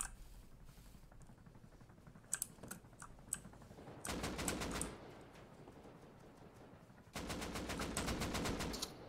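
Two long bursts of rapid automatic gunfire at a helicopter in the video game Rust, loud and continuous. Quieter key clicks and scattered single shots come before them.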